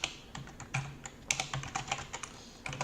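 Quick, close typing on a computer keyboard as a project name is entered, a brisk irregular run of light key clicks with a few heavier taps, quiet and alone.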